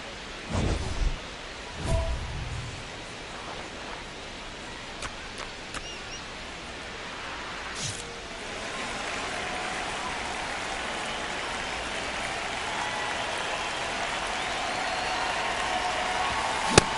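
Steady rain falling on a baseball game between the Cardinals and their opponent, a broad constant hiss that swells in the latter half, with a few faint thumps and distant crowd noise early on.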